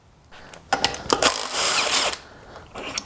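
A power tool on a Cub Cadet snowblower spins cover bolts loose in a close series of ratcheting, whirring bursts, with one longer run in the middle and clicks in between.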